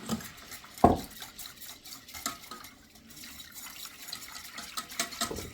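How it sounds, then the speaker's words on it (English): Whisk scraping and stirring in a pan as milk goes into a cheese sauce, a soft repetitive swishing with a sharp metal clink near the start, close and quiet without speech. "So now you're going to keep whisking because we're going to add in 3 cups of milk to make this cheese sauce"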